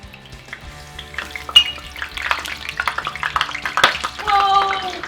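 Water flicked from wet hands into hot frying oil for cooking fish bursts into close, popping crackles that build into a dense, spitting sizzle, with faint background sounds.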